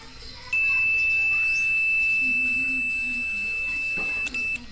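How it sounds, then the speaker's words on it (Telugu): A multimeter continuity buzzer sounds as a steady high-pitched tone, switching on abruptly and holding for about four seconds before cutting out with a brief break at the end. "ఓకే బజర్ అనేది వస్తుంది"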